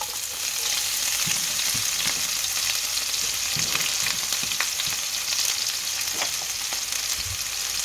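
Onions frying in a pan for chicken noodles, a constant close sizzle with scattered stirring clinks and scrapes, no voices.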